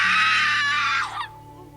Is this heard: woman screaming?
yes